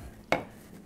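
A single sharp knife cut on a board through an already cleaned octopus in a kitchen, one brief close tap amid quiet room tone.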